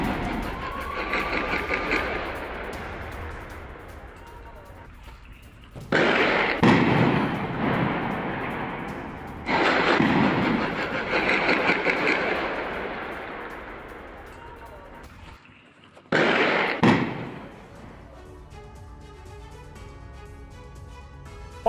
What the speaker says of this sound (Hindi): अल हरीथिया में इजरायली सेना पर गोलीबारी की यह तस्वीर देखिए।